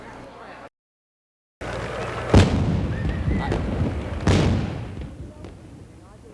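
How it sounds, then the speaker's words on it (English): Cannon fire from a 19-gun salute at a governor's inauguration, two heavy booms heard a couple of seconds apart, each with a rumbling tail, outdoors with crowd ambience. "A 19-gun salute signaled the opening of the inauguration of Governor Bill Clements."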